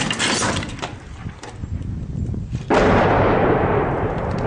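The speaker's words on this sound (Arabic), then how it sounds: "ها هو صوت الصاروخ الآن." A missile strikes during shelling in the Baba Amr district of Homs, Syria: a loud, sudden broadband blast and roar that swells and continues after earlier rumbling, heard close and raw with no talk.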